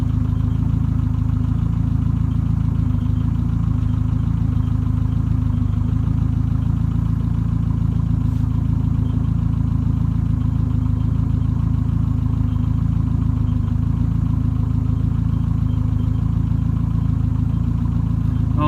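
A car engine idles steadily while its fuel is tuned with Megasquirt while it runs rich, a loud, even low rumble lasting throughout with no talk.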